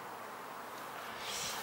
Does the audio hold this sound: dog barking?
no